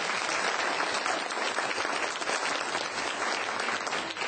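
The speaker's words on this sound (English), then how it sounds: "One more round of applause for the folks who are up here this evening." A crowd at a county clerk candidates' debate in Bell County claps steadily, dense and sustained applause filling the room from start to finish without a break.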